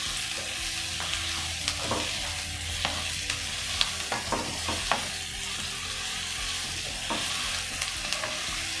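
Onion and capsicum sautéing with salt in a pan give a steady broadband sizzle, broken by frequent sharp clicks and scrapes of a spoon stirring against the metal, with no talk.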